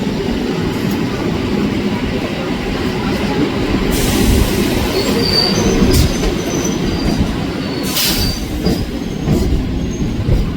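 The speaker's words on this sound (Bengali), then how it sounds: "এই মুহূর্তে আমাদের ট্রেন এসে দাঁড়িয়েছিল সাঁতরাগাছি জংশন স্টেশনে" A local train arriving at Santragachi Junction, loud and close, with a constant wheel rumble, clattering over rail joints, and several high metallic squeals from the wheels.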